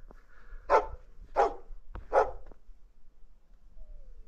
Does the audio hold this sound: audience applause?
no